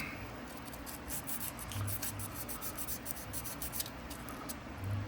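Light-grit sandpaper rubs over the brass side plates of a Parker Cut Co folding hunter knife in quick, close, repeated strokes, a soft rhythmic scratching heard alone.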